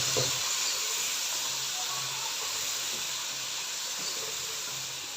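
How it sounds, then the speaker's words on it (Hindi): Water poured onto spices frying in a hot karahi for a restaurant-style beef tikka karahi sets off a loud, steady sizzling hiss that fades slightly over a few seconds, with no talking. "और साथ ही थोड़ा सा पानी ऐड कर देंगे ताकि हमारे स्पाइसेस जल नहीं जाएं।"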